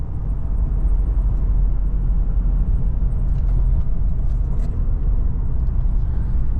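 A RAM 1500 with a HEMI V8 rumbles through an Evil Energy muffler, a steady deep exhaust drone that holds constant and loud, with no one talking.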